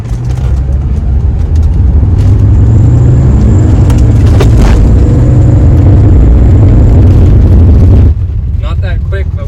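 A 1982 Mercedes 300SD turbo diesel pulls from a standstill to 30 mph. The engine drones loudly and close throughout, with a faint voice over it.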